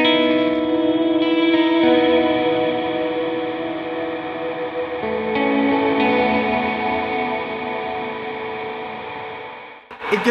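An electric guitar runs through reverb and feedback effects, giving sustained, washed-out chords with a long echoing tail. The tone shifts partway through and then cuts off abruptly.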